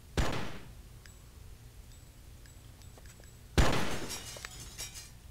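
Glass shattering in the video game Oni, two loud crashing bursts several seconds apart, each with a ringing tail and scattered tinkling fragments between them.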